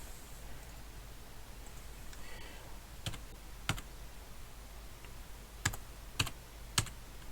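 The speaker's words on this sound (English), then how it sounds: "I'm just going to type in the product key here." A computer keyboard clicks faintly as a product key is typed, with scattered single keystrokes over a soft, hissing room background.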